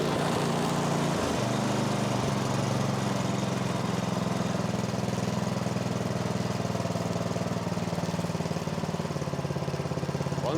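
A snowblower engine runs steadily after a carburetor fix, a loud, even mechanical drone with a slight catch near the start before settling into a constant idle-like roar for the whole stretch.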